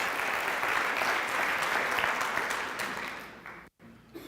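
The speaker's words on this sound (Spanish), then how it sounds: "Un fuerte aplauso para el señor Holton" An audience gives a strong round of applause for Mr. Holton at a training seminar, dense clapping that holds steady, then thins and breaks off near the end.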